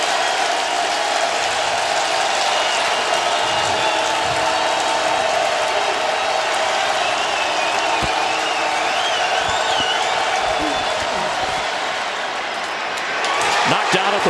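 A large NFL stadium crowd roars steadily during a Minnesota Vikings vs Cincinnati Bengals game, a broad, continuous wash of distant cheering that swells slightly near the end, with a commentator's voice faintly over it.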